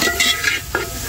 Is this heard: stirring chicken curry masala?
yes